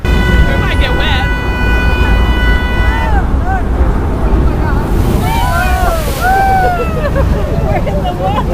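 An amphibious DUCK truck boat enters the water amid loud rushing splash and wind buffeting, with constant low engine and water roar throughout and people talking and exclaiming over it.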